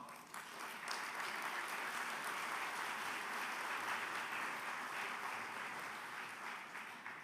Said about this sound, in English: let us give all of them a round of applause